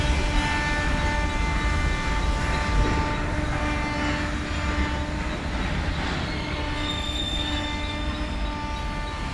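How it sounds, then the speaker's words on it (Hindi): A Tejas Rajdhani express train crosses on an Indian railway line. Wheels rumble and clatter steadily over the rails, with metallic squeals and tonal ringing throughout, and the sound eases slightly toward the end. "ये एक तेजस है, तेजस राजधानी।"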